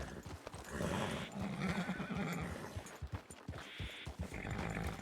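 A horse in a Wild West video game neighs and whinnies loudly while its hooves clip-clop close by, a continuous stretch of agitated horse sounds with no talk.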